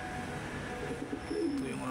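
A pigeon coos once in a low, rolling call near the end, heard faintly against steady dim outdoor ambience in the early morning.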